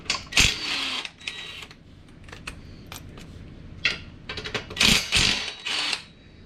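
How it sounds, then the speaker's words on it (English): Winch head bolts, 16 mm, being undone with a tool, intermittent close metallic clicks and rattles in short bursts with quiet gaps. "Now I'm just going to undo my 4 16mm head"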